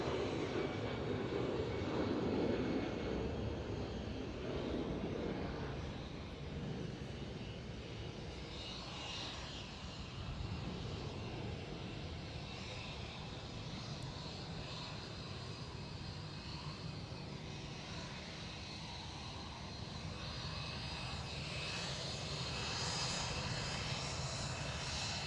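A Korean Air Boeing 747 airliner at Schiphol airport gives off a loud, steady roar of jet engines, sustained and broadband throughout with little change in level, no voices present.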